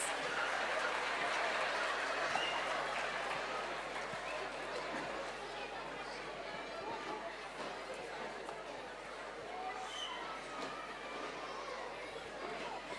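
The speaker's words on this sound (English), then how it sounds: "They deserve a huge round of applause" An audience at a school annual day applauds a children's performance, scattered clapping mixed with crowd chatter that gradually settles to a lower murmur.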